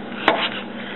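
One sharp knife chop through sheep tail fat on a cutting board, a single brief close thud over faint background hiss.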